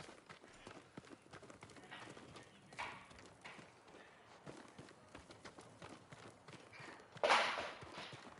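Horse hooves clip-clop in a rapid, irregular rhythm in the video game Ghost of Tsushima, moderately close, with a brief brighter jingle near the end.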